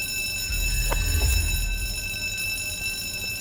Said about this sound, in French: L'alarme se déclenche même sans fumer. Le bip semble volontaire